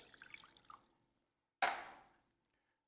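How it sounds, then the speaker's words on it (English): Warm water, around 110 degrees, is poured into a mixing bowl for pizza dough: a few soft drips first, then a short, sharp splash of pouring that quickly fades to quiet. "I'm going to take this water that's been warmed up to about 110 degrees, and I'm going to pour it in my bowl"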